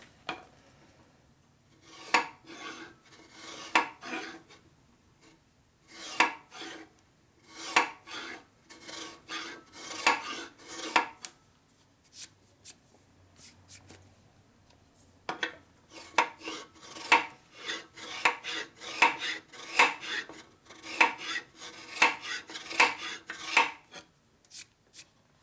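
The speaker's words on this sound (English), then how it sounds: "Let me get my body file. This is my best file. It's for doing body work." A hand body file rasps back and forth across a Harley-Davidson panhead engine part from a 1961 FL 74ci motor, in repeated bursts of strokes separated by brief pauses, close and fairly loud with no talking.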